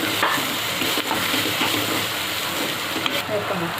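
Cluster beans sauté with turmeric and red chili powder in a pan, making a steady close sizzle with scraping stir strokes throughout.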